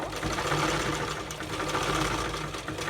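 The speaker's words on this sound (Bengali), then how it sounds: "প্রথমে আমি এক ইঞ্চি বরাবর সেলাইটা করব" A sewing machine runs steadily, stitching a salwar seam with a fast, even mechanical whirr close by and no voices.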